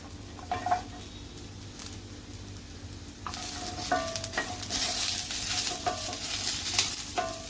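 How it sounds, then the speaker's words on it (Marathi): Ginger, garlic and green chilli frying in oil for a sprouted moong curry, light sizzling with spatula taps against the pan that swells into a louder, steady hiss. "आलं लसूण भाजून घातल्याने चांगली टेस्ट येते आपल्या मसाल्याला"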